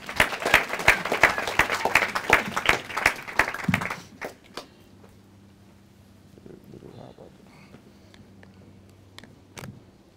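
Wedding guests clap briskly for about four seconds, loud and close, then the applause stops abruptly, leaving a quiet room with a low hum and a few scattered claps.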